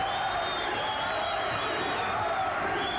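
A boxing arena crowd at an IBF world super lightweight title fight roars steadily at the start of the twelfth and final round, a dense, sustained wash of distant cheering and whoops with no clear breaks.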